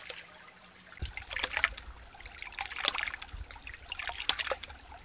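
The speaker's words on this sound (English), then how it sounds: "now the pump is cycling on its own" Off-grid hydraulic ram water pump with a 1/2-inch ram running on its own outdoors, giving intermittent trickling and splashing water with soft repeated pulses over a low steady flow.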